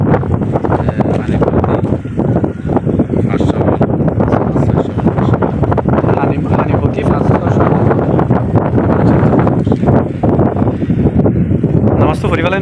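Open wind sweeps across the coastal flats of Khan Bis (Pokkhali, Gomatoli) in Cox's Bazar, a loud, continuous roar buffeting the microphone throughout, with voices talking underneath.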